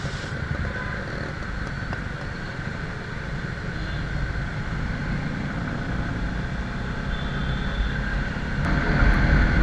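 A Bajaj Avenger motorcycle rides along a city road in a steady, continuous engine and road drone with wind rush, holding an even level throughout and swelling a little louder near the end.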